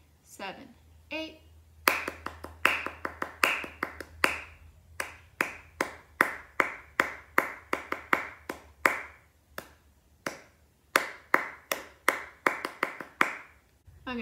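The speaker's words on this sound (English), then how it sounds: "Let's try to clap it once." Hands clap out a tap dance rhythm in a practice class, a long run of sharp, close claps in quick syncopated groups with brief pauses between phrases, and a voice counting in at the very start.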